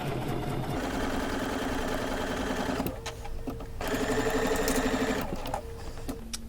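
A sewing machine stitches seams joining fabric quilt-block halves, its steady mechanical whirr running loud and close, pausing briefly near the middle as the stitching slows, then resuming and easing off again toward the end.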